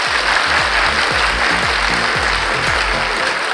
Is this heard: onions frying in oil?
no